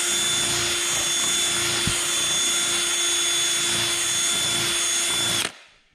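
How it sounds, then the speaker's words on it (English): Power drill spinning steadily inside a stripped, rusty set screw to clean out the rust, a close, continuous high whine with a faint tick partway through, cutting off abruptly before the end. "I'm not trying to drill it through. I'm just trying to clean the rust out of there."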